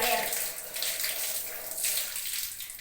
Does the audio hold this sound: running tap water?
yes